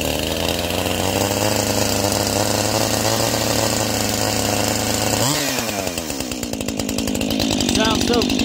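Stihl MS251 chainsaw with muffler and intake modifications running loud and steady while cutting wood, its engine pitch dipping midway as it bogs into the cut before climbing back to a high whine.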